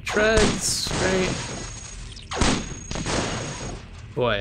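Gunfire crackles through an active firefight in the sci-fi robot game Cogmind, bursts of shots and thuds in several loud clusters, interleaved with speech throughout.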